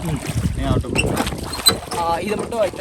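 Boat crossing the river at Gavi in Periyar Tiger Reserve, a steady motor drone and water wash with wind buffeting the microphone, while a person talks over it throughout.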